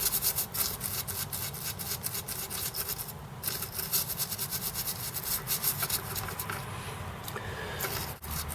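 A toothbrush scrubs corrosion off an Amiga A4000 circuit board with a continuous rapid scratchy rubbing, close and fairly quiet, with brief pauses as the brush shifts position.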